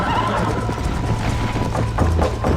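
Rhythmic hoofbeats of a galloping horse in Red Dead Redemption pound beneath a steady musical drone, with a horse's whinny mixed in.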